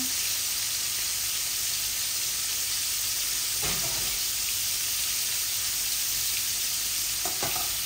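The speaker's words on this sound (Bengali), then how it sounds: "মাছগুলা ভাজা ভাজা হোক, এর মধ্যে আমি এখানে তেলও পরিমাণ মতো দিয়েছি।" Rohu fish head frying in oil, a dense steady crackling sizzle throughout with a couple of brief clatters from a spatula in the pan.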